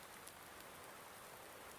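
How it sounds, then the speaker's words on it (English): Steady, faint rain hiss fills the whole clip without a break in Farming Simulator 19, falling on a farm shelter with a roof that lets water through in places. "Right, so the rain isn't coming in here."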